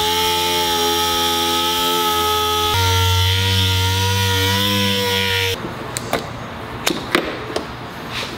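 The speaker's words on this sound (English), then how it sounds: "we wanna get our DA and just go over all of this, get it nice and flat so we don't feel any imperfections" A dual-action sander works over old clear coat on a car body, a steady high whine with a droning tone that shifts pitch partway, followed by a few sharp knocks and scrapes as it stops.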